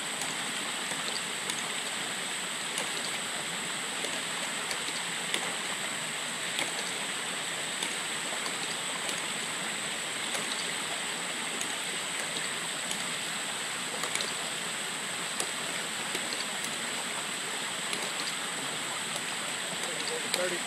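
Steady rushing water runs continuously through a ram pump, a broad even hiss like a stream or spillway, with no voices.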